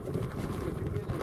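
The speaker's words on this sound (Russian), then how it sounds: "Весь пошел ветер" Gusty wind blowing outdoors on a frozen lake during ice fishing as the weather turns, a loud buffeting rush against the microphone throughout the short stretch.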